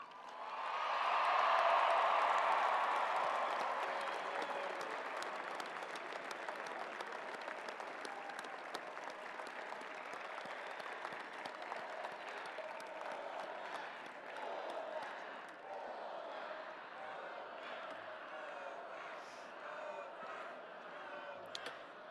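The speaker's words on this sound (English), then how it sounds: "please join me in a round of applause as we unveil this new mark in Alabama football history" A large crowd at the Alabama 2017 national championship celebration bursts into applause that swells early, then settles into sustained, steady clapping and cheering heard from a distance.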